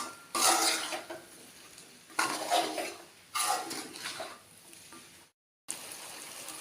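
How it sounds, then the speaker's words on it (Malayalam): Chilli chicken is stirred and mixed in a pan in three broad scraping, sizzling bursts with short pauses between, close and fairly loud, followed by a brief silence and quieter continued stirring. "എല്ലാം നന്നായിട്ട് ഇളക്കി യോജിപ്പിക്കണം,"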